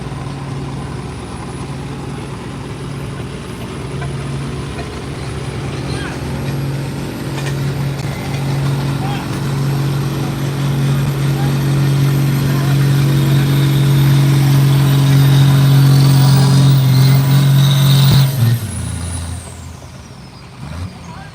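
A Ford 9600 farm stock tractor pulls at a county fair tractor pull, its engine droning loud and steady and building in intensity for about eighteen seconds, then cutting off abruptly and fading away.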